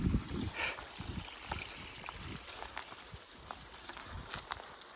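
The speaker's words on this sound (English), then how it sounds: "One of the major waterfalls in Bradshaw Cluff." Waterfall and stream in Bradshaw Cluff, a faint steady rush and trickle of running water with scattered soft splashes and rustles, heard from a short distance.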